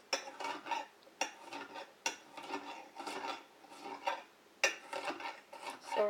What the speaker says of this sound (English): I'm making chopping type sounds for this garlic.